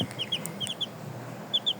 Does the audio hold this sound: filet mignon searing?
no